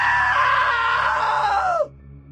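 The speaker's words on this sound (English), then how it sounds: "Now that was a great scream" A long, loud, sustained scream from a man in What Remains of Edith Finch, holding steady before bending downward and cutting off abruptly, with a low hum lingering underneath.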